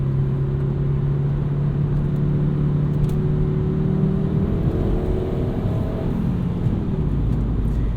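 A 1997 Volvo 850 R with a 5-speed gearbox drives along, its engine a steady close drone from inside the cabin, the pitch gliding up and down with throttle and road rumble beneath.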